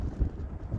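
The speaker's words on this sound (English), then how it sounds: "It's a lot of wind today" Strong wind buffets an outdoor microphone at a spot where a Hobbyzone Aeroscout model plane is flown, blowing steadily around 15 mph with gusts into the low 20s, a continuous low rumble that swells briefly.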